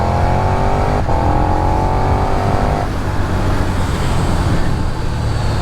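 A 2022 KTM 1290 Super Duke R motorcycle accelerating hard to overtake, its engine note rising in pitch then shifting, loud and close over constant wind and road roar.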